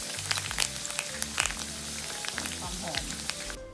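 Pandan leaves fry in hot oil with a loud, steady bubbling sizzle nearby, crackling continuously before cutting off abruptly at the end.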